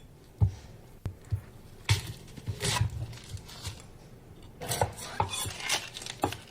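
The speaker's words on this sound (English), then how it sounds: "Cutting each ends off the onion. Now slice it vertically, chopping." A knife chops an onion on a cutting board in a series of irregular, close taps and sharper cuts, with short bursts of rapid chopping, alone without talk.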